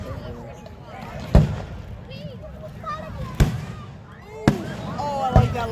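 Fireworks bursting in a show, four sharp booms spaced a second or two apart, loud and distant-sounding, heard under excited talk from nearby onlookers.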